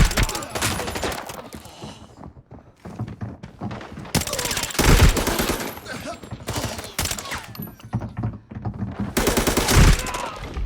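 Gunfire in the shooter game Arena Breakout, with bursts of loud, dense shots coming in three clusters and scattered single cracks between them, all up close.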